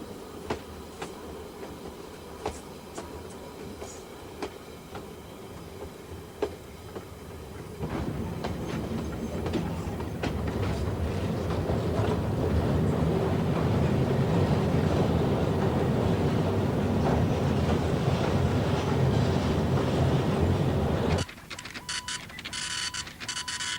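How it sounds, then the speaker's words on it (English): A traditional West Coast freight train hauling cement and coal through New Zealand's Buller Gorge, starting as a moderate rumble with clanks and then swelling into a loud, steady roar of rolling wagons before cutting off abruptly. "Train 819, the unique sound in the Buller Gorge."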